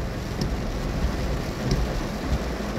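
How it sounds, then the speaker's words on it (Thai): Steady heavy rain pours down over a rice field in a dense, continuous hiss with a low rumbling undertone, no voices present. "ยายจะให้ดูฝนตกนะคะ"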